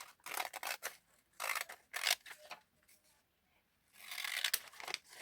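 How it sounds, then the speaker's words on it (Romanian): Scissors snip through glossy store catalogues and magazines from Profi, Bricostore, Prietenii Cartii and Velea Home, making close, crisp bursts of cutting with paper rustling and short pauses between. "Și o să tai așa în mare."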